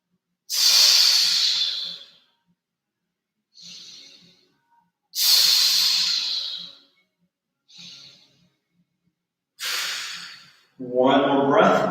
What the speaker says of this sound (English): Taking deep inhales, deep exhales.